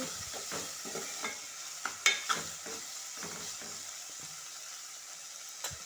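Tomatoes stirred into a curry in a frying pan, soft scraping strokes of a spoon repeating over a low, continuous sizzle, with a couple of louder clinks near the middle and no talking.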